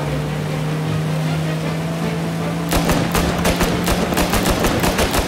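Rapid bursts of gunfire from the Mafia Remake video game ring out as sharp repeated cracks over a steady engine drone, starting partway through and continuing loud to the end.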